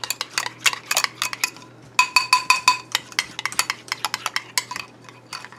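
Whisk or spoon clinks rapidly against a bowl while a hot mixture is stirred into eggs to temper them for a lemon meringue pie filling. The clinking is loud, close and rhythmic, and no one speaks.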